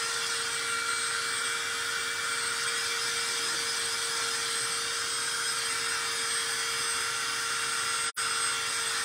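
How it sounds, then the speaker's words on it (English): A small craft heat dryer blows steadily on a painted surface, its high whirring hiss and thin motor whine holding constant and close, cutting out for an instant near the end. "So I'm going to hit it with my little baby dryer, my little baby craft dryer that I have."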